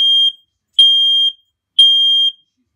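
A Nest Protect smoke detector sounds its test alarm: three loud, piercing electronic beeps, each about half a second long, evenly spaced in an otherwise silent room.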